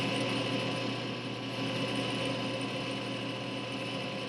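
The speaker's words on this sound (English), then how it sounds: "Just kind of walk your sandpaper around" Valve lapping on a drill press, with a valve seat turned against sandpaper wetted with WD-40, gives a steady, even mechanical whir with faint rubbing throughout.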